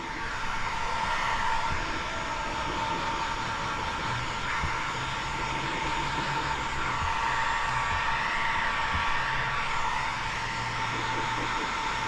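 A heat gun blows continuously while heat-shrinking window tint film on a Tesla Model Y roof glass, a steady loud whooshing fan roar that holds even from start to finish with no talking.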